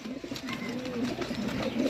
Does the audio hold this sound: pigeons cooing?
yes